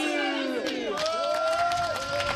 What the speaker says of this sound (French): quand c'est fini, on s'applaudit.